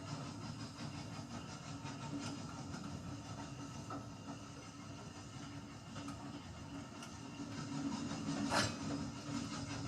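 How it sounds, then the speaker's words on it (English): A simplified steam locomotive in a train video game runs with a steady rumbling chug and rail clatter, a continuous near drone that swells slightly toward the end. "Here's a somewhat simplified steam locomotive."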